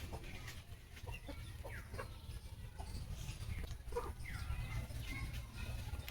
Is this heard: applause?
no